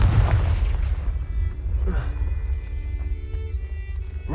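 Confringo fire spell in Hogwarts Legacy lands with a heavy low boom up front, then a short crackling burst and lingering rumble of game ambience beneath.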